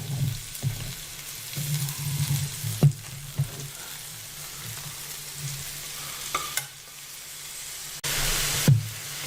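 Leeks frying in a pan for spicy Korean ramen with zucchini and chicken, a close crackling sizzle with scattered spatula knocks and a louder burst of sizzling near the end.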